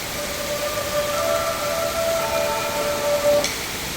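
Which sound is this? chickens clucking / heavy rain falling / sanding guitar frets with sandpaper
heavy rain falling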